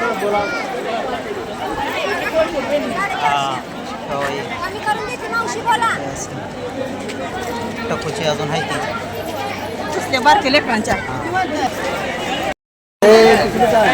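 Dense crowd chatter fills Pandharpur temple on Ekadashi, a constant babble of many voices close around, with a nearby person talking over it.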